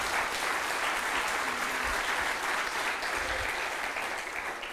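A conference audience at a Debian closing plenary gives sustained applause, many hands clapping in a steady wash that holds evenly throughout and fades slightly near the end.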